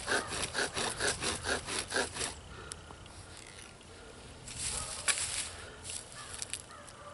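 Rhythmic back-and-forth scraping of wood on wood from a bow drill, about a dozen quick strokes, then fainter, irregular rubbing.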